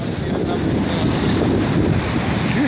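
Indian Ocean waves and surf roll in a constant loud wash, with wind buffeting the microphone throughout and no voices heard.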